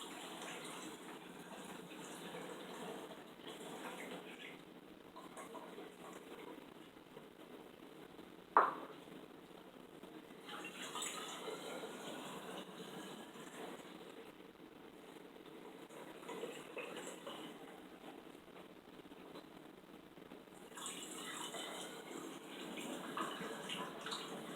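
Ginger kombucha pours quietly and steadily into a bottle, a soft continuous trickle and gush with one brief clink partway through.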